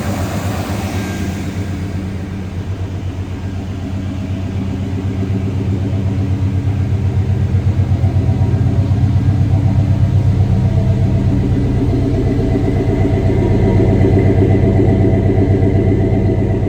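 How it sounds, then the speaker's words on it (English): A 1991 Chevrolet 2500 Camper Special pickup's V8 idles at the rear tailpipe, giving a steady, smooth, deep exhaust rumble heard up close, with no voices. "And a nice little rumble coming out of that tailpipe."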